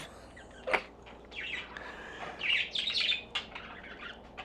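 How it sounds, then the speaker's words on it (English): A blue pet bird chirps loudly and repeatedly at close range indoors, giving sharp bursts and rapid twittering runs with brief pauses between them. "That blue one back there was the one that was chirping"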